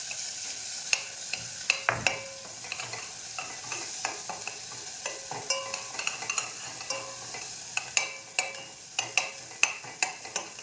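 Ground masala paste sautéed in oil for a village-style chicken sukka: a steady low sizzle punctuated by a regular run of sharp spatula taps and scrapes against the pan, close up with no voices.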